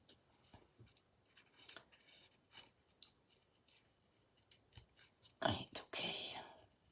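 Scissors cut through handmade card stock, soft scattered snips and rustles close by, ending in a louder burst of cutting and paper handling.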